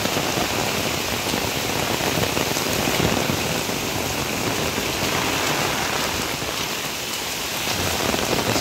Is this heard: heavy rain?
yes